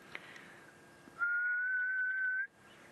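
A single steady whistle, slightly rising in pitch, held for about a second, imitating the low, haunting call of the ghost bird (spookvoël). Quiet background before and after.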